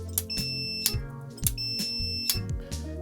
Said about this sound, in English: we have the multimeter set to continuity mode. Let's put it on the switch and click the switch.